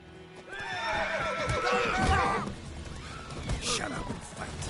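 A horse in The Witcher 3 gives a loud, wavering whinny that rises and falls for a couple of seconds amid combat thuds and crashes, with voices around it.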